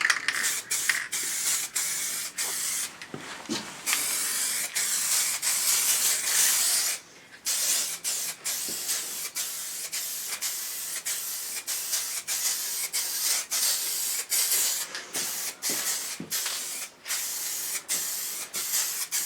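A spray can lays a liquid wrap coat onto a Triumph Tiger motorcycle in a garage, with repeated loud hissing bursts broken by brief pauses between passes.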